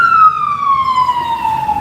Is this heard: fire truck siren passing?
yes